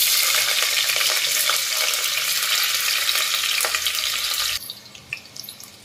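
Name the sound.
onion frying in oil in a pressure cooker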